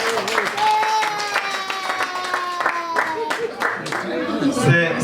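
A group claps in a burst of applause at a festive end-of-year celebration, with a mix of sharp hand claps, a voice and a sustained tone over them.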